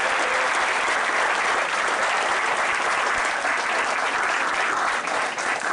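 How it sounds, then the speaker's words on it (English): A large audience at a Christ College valedictory ceremony claps in a loud, dense, steady round of applause that fills the room without a break from start to finish. "give a thunderous round of applause for this entire"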